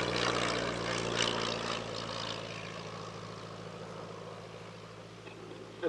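A vintage Mark I propeller aircraft flies past at the Shuttleworth Family Airshow, its engine droning steadily and fading gradually as it moves away, with no talking.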